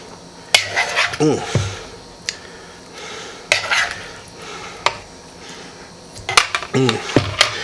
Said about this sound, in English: So I'm gonna go ahead and scoop some out here.